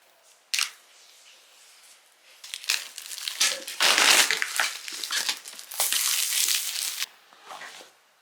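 Packaging for a silver M2 MacBook Pro 13 crinkles and rustles close up, with several louder crumpling bursts as the wrapping is torn and handled.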